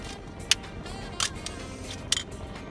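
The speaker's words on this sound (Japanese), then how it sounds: "ちょっと動きが、シャッター幕の動きが鈍いかな。" The shutter curtain of a Minolta SR-1 film camera, a junk unit whose curtain moves sluggishly, is fired three times in a quiet room, each a sharp close mechanical click.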